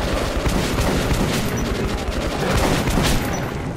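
Shotgun blasts and gunfire from the video game Metro 2033 Redux, a dense, continuous barrage of loud booming shots with many sharp transients over several seconds.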